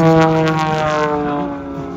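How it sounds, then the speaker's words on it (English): An aerobatic airplane drones overhead at an airshow, its engine a loud, steady harmonic hum that slowly shifts pitch as it recovers and climbs. "He's got to get the airplane flying again."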